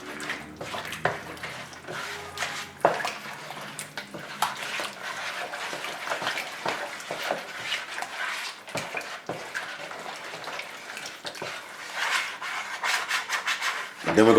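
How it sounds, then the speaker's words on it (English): Peach cobbler batter being stirred in a bowl, a steady scraping, rubbing rasp of the utensil going round and round, close and continuous with no talking. "Stir it until there's no more lumps left."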